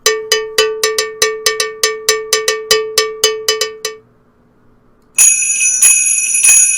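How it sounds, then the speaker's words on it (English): A cowbell struck about sixteen times in a steady, brisk rhythm, loud and close, ringing alone; after a short pause a bright jingling shake begins. "Cowbell."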